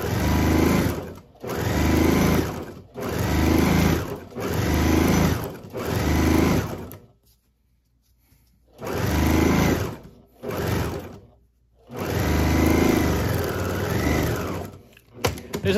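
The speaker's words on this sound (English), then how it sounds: "put the two materials together and stitch it all the way down" A sewing machine stitches two layers of fabric for a quilted tennis bag, running in close, loud bursts of a few seconds each, separated by short pauses and one longer silent gap.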